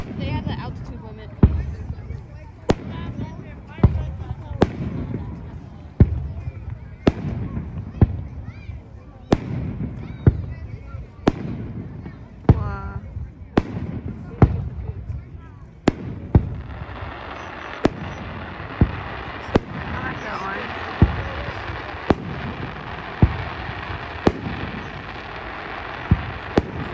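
Community fireworks show on the Fourth of July, with a steady run of sharp bursts and pops repeating every second or so over a long stretch, under crowd chatter and voices nearby.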